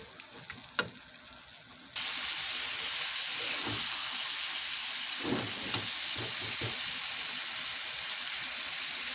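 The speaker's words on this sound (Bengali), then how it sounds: "এই যে আমি মশলাটা কষায় নিছি সুটকিও দিয়ে দিছি তো এখন আমি ভেন্ডি গিলি" Okra added to a pan of cooked-down spices and dried fish: a sudden loud sizzle erupts and holds as a continuous close hiss, with occasional stirring knocks beneath it.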